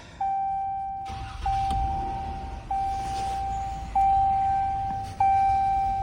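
A 2016 RAM 1500 Tradesman 4x4 pickup with over 213,000 miles starts up, its engine settling into a low idle rumble while a dashboard warning chime rings repeatedly at an even pace.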